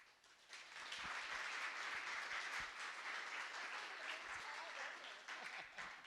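Audience applause welcoming guests at a church event on disaster relief, a sustained crowd of clapping hands that swells quickly and holds steady for several seconds before easing slightly.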